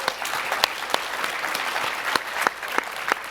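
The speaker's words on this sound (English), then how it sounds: "Round of applause for our panelists." Audience at a panel discussion clapping steadily, a dense burst of many hands with sharp individual claps standing out, moderately loud for about three seconds.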